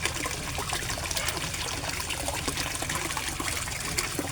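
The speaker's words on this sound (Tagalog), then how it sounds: "So, ang submersible pump ko guys, ang lakas-lakas niya." Water from a submersible pump splashes and trickles steadily into a koi fish pond, a constant close babble of moving water with no voices.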